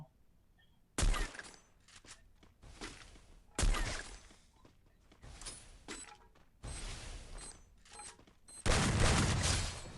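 Bursts of gunfire crack out in a battle royale video game: several sharp volleys at irregular intervals, some loud and close, others quieter, over a faint background.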